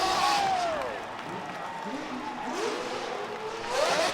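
A drift car's engine note rises and falls in sweeping revs at a professional drifting championship, with the wailing tone pulling away and returning at moderate distance while a crowd murmurs and an announcer talks.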